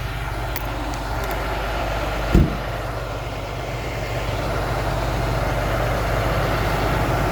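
Old bus number 23 runs through snow, fitted with automatic tire chains, its heavy engine giving a steady low rumble that swells gradually, with one brief knock partway through.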